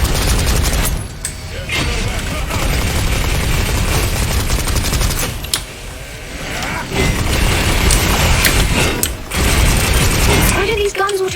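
Guns auto-loading in a video game: loud, rapid mechanical clicking and ratcheting that runs almost continuously, broken by a few short pauses, with speech faintly mixed in.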